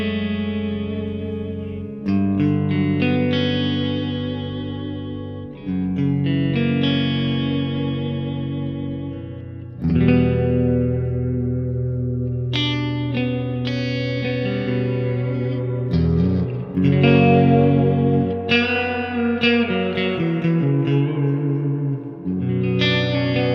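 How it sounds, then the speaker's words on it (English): A MESA/Boogie JP-2C guitar amp on its clean channel, with reverb set about halfway, rings out chords and arpeggiated notes that bloom and tail off in a wet, surf-like wash, played alone and steady throughout. "here we'll turn up the reverb about halfway"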